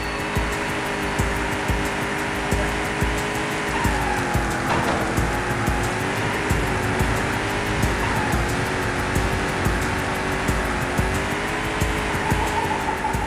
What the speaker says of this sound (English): anything you see me do here is just sort of skidding,